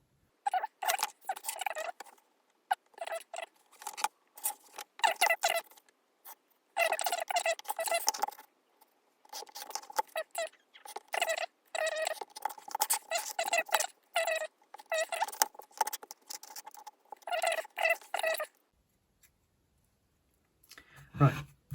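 A scalpel slices through material while cutting out a scratch-built model railway yard office part, with close, quick scratchy strokes in repeated bursts separated by short pauses.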